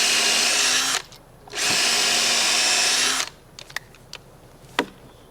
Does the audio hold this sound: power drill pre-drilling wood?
yes